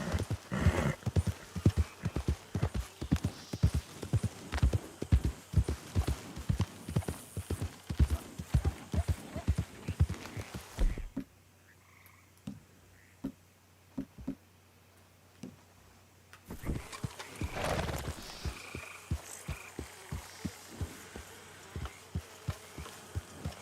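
Horse hooves clip-clop at a steady walking rhythm while riding in Red Dead Redemption 2, close and crisp, with a few quieter seconds before the hoofbeats resume on a city-bound bridge.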